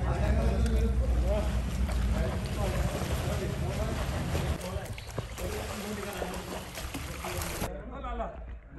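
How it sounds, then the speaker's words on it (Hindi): Water in a swimming pool sloshes and splashes close by in a continuous turbulent wash, muffled in places as if heard underwater, with voices talking over it. "पानी की आवाज सुनी आपने?"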